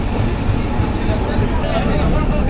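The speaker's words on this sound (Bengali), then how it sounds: "রাত 9টা বেজে 18 মিনিটে আমাদের ট্রেন ছাড়লো মহেশপুর থেকে।" Ovijatri commuter train pulling away from Maheshpur station at night after rain, a steady loud low rumble and rolling rail noise heard from on board, with voices murmuring underneath.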